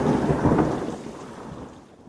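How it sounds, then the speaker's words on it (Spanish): Rain with a long rolling rumble of thunder, loud at first and then fading steadily, with no voices. "Hasta que un día empezó a llover."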